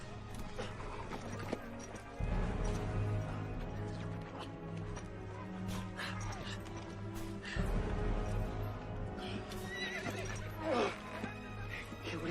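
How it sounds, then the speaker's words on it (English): A horse neighs and its hooves clip-clop over a busy, layered background of movement and clatter. Voices are faintly mixed in. "Here's my horse."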